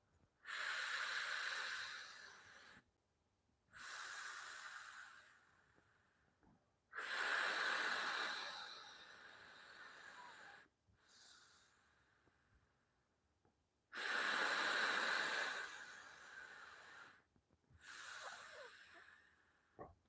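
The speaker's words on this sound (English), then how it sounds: "I just do 3 puffs and then 3 exhales. So 3 inhales, 3 exhales" Breaths are drawn hard through a Breather Fit lung training resistance trainer, coming as loud, hissing inhales and exhales in separate bursts with short quiet gaps between them.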